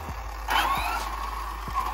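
An Arrma Infraction RC drag car drives off on a run to warm its tires, its electric motor whining up sharply then holding a high, buzzing pitch, with faint wheel thumps and clicks underneath.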